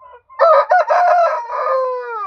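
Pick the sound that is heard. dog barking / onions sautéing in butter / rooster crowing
rooster crowing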